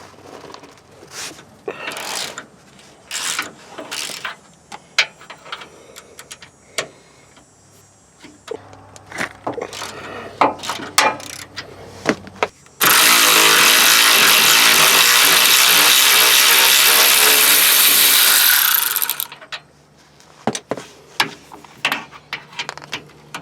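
Power ratchet or impact wrench spinning off two 17mm bolts on a Nissan Titan stabilizer bar bushing bracket, a loud continuous whirring burst of about six seconds, near, preceded and followed by clinks and taps of tools.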